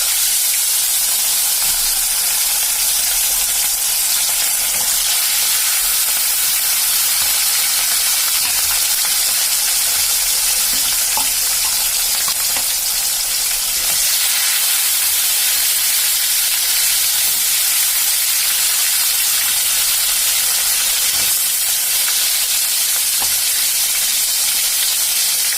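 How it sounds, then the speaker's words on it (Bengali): Rui fish frying in mustard oil in a kadai, a loud, dense, continuous hissing sizzle that holds steady the whole time with only faint scattered crackles inside it. "এবার আমি রুই মাছগুলোকে ভাজতে বসাবো।"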